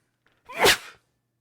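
A single short, sharp sneeze, close and clear, surrounded by silence.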